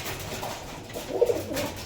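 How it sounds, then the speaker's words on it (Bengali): A golden knot pigeon, a high-flying kabutar kept in Krishnanagar, gives soft, low cooing murmurs that swell briefly near the middle, close by over a quiet background. "গোল্ডেন নট পায়রা দেখুন, স্ট্যান্ডিং দেখুন।"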